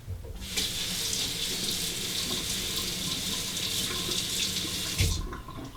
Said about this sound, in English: Let's rinse this R41 off.